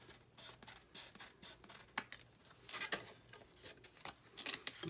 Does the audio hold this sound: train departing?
no